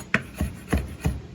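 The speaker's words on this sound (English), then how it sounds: "So we'll run our knife through it." A knife chops fresh rosemary on a cutting board in about five evenly spaced, close, crisp strokes, heard alone.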